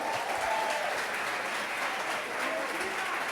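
A church congregation applauds a pastor during an evening service, with dense, steady clapping filling the room and voices faintly mixed in.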